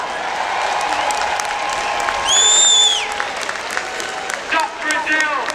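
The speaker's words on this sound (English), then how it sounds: "Give her a round of applause." An audience at an outdoor freedom protest applauds under a steady crowd din and amplified talk, with a whistle-like tone rising briefly above the noise.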